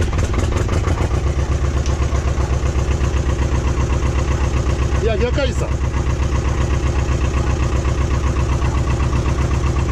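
An Ursus C330 tractor's cold diesel engine idles loudly and steadily with a low, rumbling pulse, while someone speaks briefly over it partway through.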